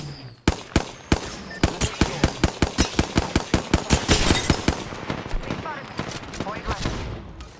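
Rapid machine-gun bursts in a video game hammer at the player, a long close run of sharp shots in an uneven rhythm that thins out toward the end.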